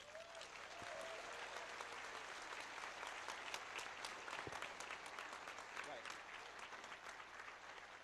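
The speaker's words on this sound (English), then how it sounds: "so let's have a round of applause for Derek." At a DEFCON 13 award ceremony, a crowded hall bursts into sustained applause, a dense wash of clapping with occasional whoops, holding steady across the whole stretch.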